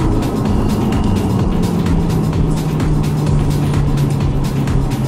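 Car engine from inside the cabin during a road driving course, a steady low drone as the driver lifts off the throttle and slows, with road and tyre rumble underneath and no talk.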